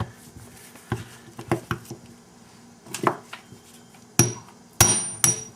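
Several sharp hammer blows on a hand impact driver, loosening old screws on a 1983 Yamaha XV500 Virago rear carburetor; irregular metallic strikes, close and loud, with the last few hardest, no talking.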